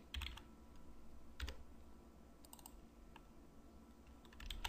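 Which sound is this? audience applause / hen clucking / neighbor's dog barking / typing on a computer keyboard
typing on a computer keyboard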